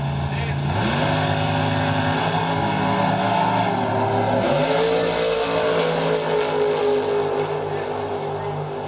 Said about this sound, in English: regardless of who wins this drag race coming up